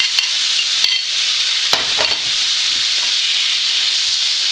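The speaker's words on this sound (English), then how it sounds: "Just kick it around. We just want to get that meat warm." Leftover sirloin steak warms in a frying pan, a steady, fairly loud hiss with a few sharp spatula knocks and scrapes as the meat is pushed around, without speech.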